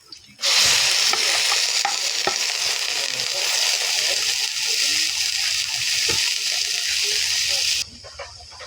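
Chicken pieces fry loudly in a hot pan for a Filipino chicken dish, a dense continuous sizzle with intermittent stirring scrapes that runs steadily for about seven seconds, then cuts to a quieter background.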